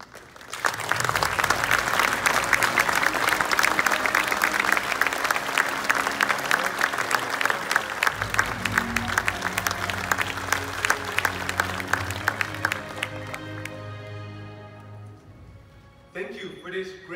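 An audience applauds a medal recipient at the AGU James B. Macelwane Medal ceremony. The clapping is dense and sustained, lasts about fifteen seconds, then fades, and a voice starts speaking at the end.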